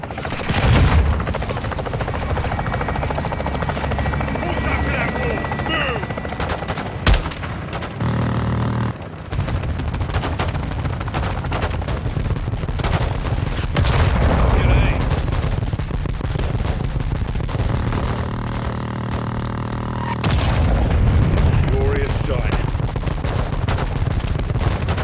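Helicopter gunship in Call of Duty Modern Warfare 2 making an attack run on a building, with sustained heavy gunfire, rapid bursts and booming impacts over a constant rotor drone, loud and close throughout.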